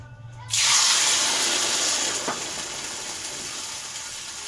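Red-hot oil poured over a dish of seasoned boiled potatoes sets off a sudden loud sizzle that holds as a bright, steady hiss and eases slightly toward the end, with no talking.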